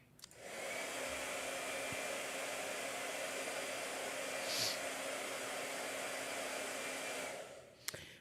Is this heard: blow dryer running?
yes